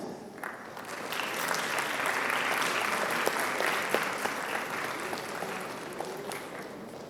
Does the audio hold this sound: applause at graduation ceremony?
yes